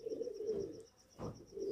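Pet pigeons kept for flying coo softly in a quiet loft, a couple of low throaty coos with a brief gap between them, close but faint.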